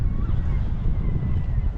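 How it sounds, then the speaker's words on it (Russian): Strong wind in Uglich, Russia roars and buffets the microphone in a continuous low rumble, loud and close with no other sounds standing out. "Ветер такой сильный."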